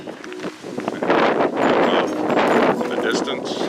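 Gusty wind buffets the microphone down in the valley of Megiddo, a loud, steady broadband roar that swells after the first second and stays strong throughout, with no voices over it.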